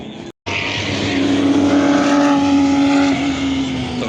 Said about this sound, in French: Drapeau bleu. On a le club BMW qui est en train de passer.